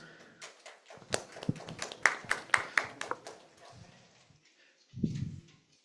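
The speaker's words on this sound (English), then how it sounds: "Let us have a warm round of applause for Dr. R.K. Shah Sahib" Scattered applause from an audience at an inaugural event in a hall, a modest run of individual claps building to a louder burst and then thinning out, followed by a brief low murmur.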